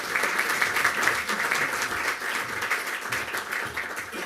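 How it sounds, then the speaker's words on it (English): An audience claps at a Kuwaiti Book Prize event in 2025, a dense, even burst of applause filling the room with no speech over it. "I hope you'll give him a round applause."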